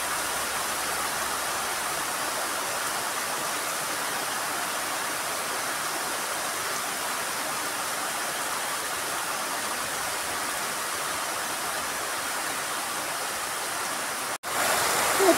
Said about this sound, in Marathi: मित्रांनो एवढा कसा पाऊस येतोय आमच्याकडं